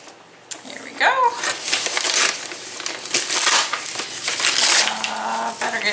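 A fan mail parcel being opened close up, with crinkling and crushing of packaging in rapid irregular bursts while a person talks.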